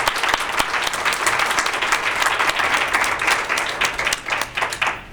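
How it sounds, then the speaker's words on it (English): An audience at a women's workshop series event applauds, with dense, steady clapping from a room full of people lasting several seconds and gradually thinning toward the end. "Let's give these ladies a round of applause."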